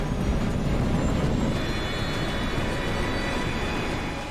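The engines of a Yak-42 airliner on its takeoff run give a loud, steady roar and rumble, joined by a thin rising whine, sustained throughout with no talking.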